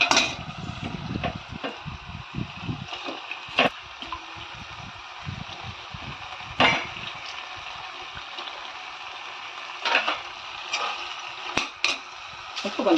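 Pieces of chicken stirred into a frying tomato masala in a pan: soft clinks of a spoon against metal and wet scraping, with a faint sizzle underneath, coming in irregular bursts.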